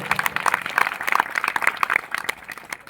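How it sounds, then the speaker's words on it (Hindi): An audience at a community gathering claps for the women present, a dense burst of sharp hand claps that swells and then thins out over a few seconds. "तो इसलिए यहाँ पर उपस्थित हमारी मातृशक्ति के लिए एक बार जोरदार ताली हो जाए"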